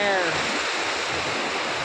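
Floodwater from the Shiyala river surges through a large culvert pipe, a loud, steady broadband roar of rushing water that stays continuous and close throughout, with no pauses.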